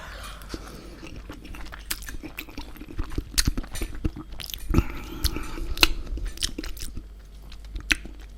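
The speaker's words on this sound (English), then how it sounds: "I'm going to eat it with a fork like a barbarian." Close, crisp chewing and biting of Chinese food eaten with a fork: moist crunches and squishy mouth sounds in an irregular rhythm, with occasional light clinks and no talking.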